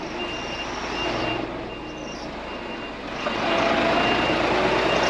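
A Scania truck reverses along a forest road near the Hungarian border, its backup alarm beeping in a steady repeating pattern over a constant engine rumble that grows slightly louder toward the end.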